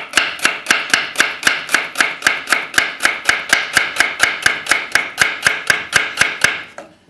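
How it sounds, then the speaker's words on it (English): A knife chops rapidly on a cutting board while slicing seaweed and cucumber for a salad, producing about twenty crisp, evenly spaced strikes in a steady rhythm, close and loud with nothing else heard. "I'm going to cut it straight across, because I don't want too long of a piece"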